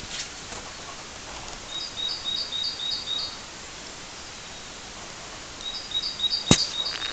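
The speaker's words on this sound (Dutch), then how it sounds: "Oh, het geluid van vogeltjes. Het geluid van leuke vogeltjes." Small birds chirp faintly outdoors in two short bursts of quick high tweets, distant over a quiet background with one sharp click.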